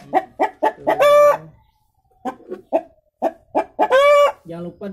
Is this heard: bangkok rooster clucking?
yes